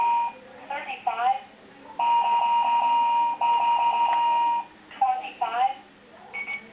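A vintage late-1990s Ultmost Talking Plus 200 Years talking calendar clock sounds its alarm as two long, steady electronic tone bursts, each with a rapid pulsing pattern. A synthetic talking voice speaks before and after.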